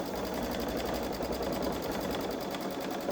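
A Babylock Solaris Vision sewing machine stitches an edge-to-edge quilting star design, its needle hammering in a fast, steady mechanical rhythm with a constant motor whir, close and continuous throughout.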